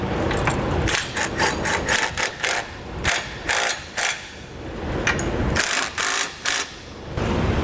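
A ratchet with an 11/16 socket tightens hitch bolts on a 2013 Jeep Grand Cherokee. Loud, close bursts of rapid clicking come in repeated strokes with brief pauses between them.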